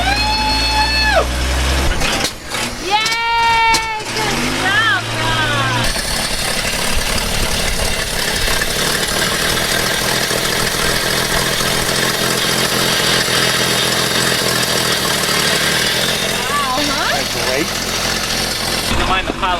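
A 1957 GMC 450 water well drilling rig truck cranks in several grinding bursts, then fires and settles into a loud, rough, continuous run close by, with a voice speaking briefly near the start.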